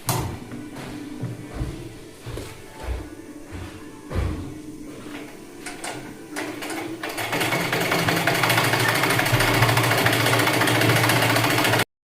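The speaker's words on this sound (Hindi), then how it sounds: "पर फिर मुझे ख्याल आया कि मैं मशीन पे सिल लेती हूँ इसको।" A sewing machine stitching a sofa cover indoors. A few thumps and handling knocks come first, then the motor and needle settle into a loud, continuous, even whir that runs close by until the end.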